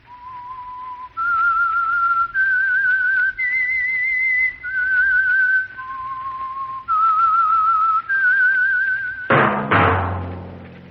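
A sequence of clear, tuneful human whistled notes, each held and stepping between pitches in a slow melodic phrase, loud and alone, used as the signature signal of the Signal Oil radio program The Whistler, ending in a sudden sharp thump.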